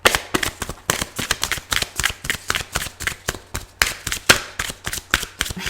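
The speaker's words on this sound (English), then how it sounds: "I'm just going to shuffle now to get 3 cards" Playing cards are shuffled repeatedly, close up, in quick riffling bursts with short pauses between them.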